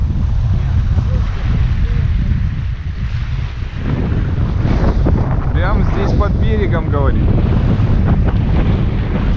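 Loud, steady wind buffets the microphone throughout on a carp fishing trip, with someone speaking briefly over the roar partway through.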